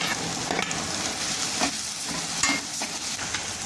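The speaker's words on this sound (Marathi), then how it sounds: "शिमला मिरची परतलेली आहे थोडी आपली" Capsicum stir-fried in a hot pan for manchurian gives a steady close sizzle throughout, with scattered scraping and stirring clicks from the spoon.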